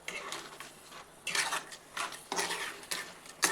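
A spoon scrapes and stirs chikoo (sapodilla) halwa with sugar in a pan, made without jaggery or mawa, in several distinct rhythmic strokes with brief pauses between them, fairly close and moderately quiet.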